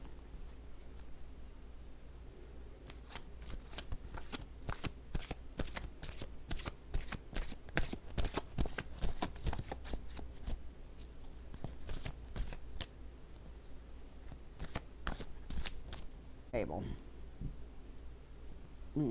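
Playing cards are shuffled in rapid bursts of crisp riffling clicks, with pauses between runs and a person talking quietly over parts of it.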